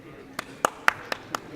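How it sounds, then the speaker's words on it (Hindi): A handful of separate, sharp handclaps ring out at a political gathering as a speaker is welcomed, five distinct claps spaced evenly over a quiet background. "ज़ोरदार तालियों से इस्तकबाल"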